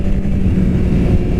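A 2017 Honda CBR1000RR sportbike engine runs with a loud, steady low rumble, close by and without talk.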